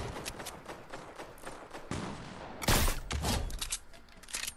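Loud sniper rifle shot in a first-person shooter game match, a sharp broadband crack followed by rumbling echo, set amid a busy mix of game effects and footsteps.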